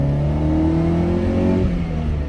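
Honda SOHC VTEC car fitted with a D15 intake manifold pulling off in first gear, the engine note rising steadily in pitch over a couple of seconds, loud and close with exhaust prominent, then easing at the end.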